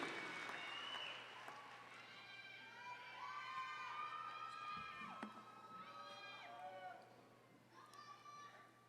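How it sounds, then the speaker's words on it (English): A graduation ceremony audience at Wayne State University's December commencement cheers and applauds, with distant whoops and shouts rising over steady clapping in a large hall. "Great cheering section."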